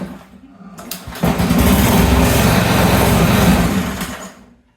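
A Cub Cadet ST 100 wheeled weed eater's small engine catches after a brief pull and runs loud and steady with a fast buzzing rattle for about three seconds before fading as it shuts off.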